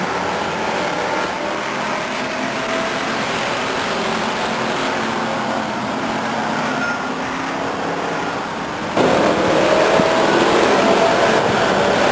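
Race cars circling Stockton 99 Speedway during a main event, a steady broad engine roar carrying across the oval for the whole stretch, louder and brighter in the last few seconds as cars pass closer.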